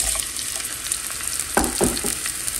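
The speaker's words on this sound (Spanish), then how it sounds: "En una cacerola vamos a agregar un poquito de aceite. Aquí voy a agregar una cebolla picada." Chopped onion frying in a little oil in a pot, a steady close sizzle with a few louder stirring scrapes near the end.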